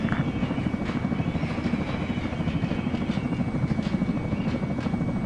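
A helicopter in a video game whirs with a steady, continuous rotor drone and buzz, close and loud throughout with no pauses.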